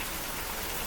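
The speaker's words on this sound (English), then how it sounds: "it's not usual to have a hard rain in the morning here" Hard morning rain falls in a steady, dense hiss of drops striking surfaces, an even unbroken wash of sound with no voices.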